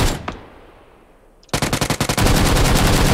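Automatic gunfire in the online shooter PUBG Lite: a single distant shot, a lull, then a sudden loud burst of rapid machine-gun fire that continues as a dense, unbroken stream to the end.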